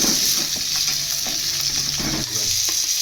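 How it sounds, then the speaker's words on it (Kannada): Onions frying in oil with peanuts and curry leaves, a steady close sizzle with soft stirring scrapes and occasional knocks of the spoon against the pan, no voices. "ಎತ್ತಿಟ್ಕೊಂಡಿರೋಂಥ ಈರುಳ್ಳಿನ ಇದ್ದೀನಿ ಇದು ಕೂಡ ಒಂದು ಎರಡು ನಿಮಿಷ ಚೆನ್ನಾಗಿ ಫ್ರೈ ಮಾಡಬೇಕು"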